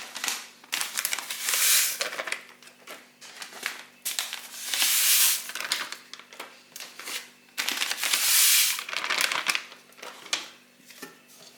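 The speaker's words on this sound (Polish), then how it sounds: "Wsypuję galaretki." Dry granular rustling and crinkling in bursts as jelly powder is shaken from paper packets into a bowl, with brief pauses between pours.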